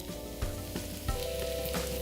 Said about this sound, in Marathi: तेल गरम झालेलं आहे. त्यात घालूया 1 मोठा चमचा बारीक कापलेली लसूण.